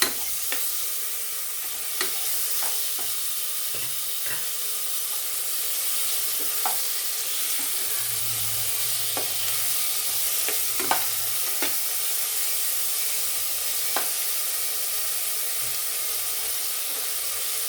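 A tomato is added and stirred into a pan for country chicken soup, making a steady sizzling hiss with repeated light ticks and scrapes of the spoon at irregular intervals.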